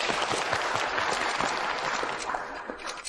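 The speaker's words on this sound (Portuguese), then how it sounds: "Um forte aplauso" Steady applause from an audience at a factory gathering, welcoming visiting guests, with many hands clapping in a dense, continuous wash that holds strong and eases slightly toward the end.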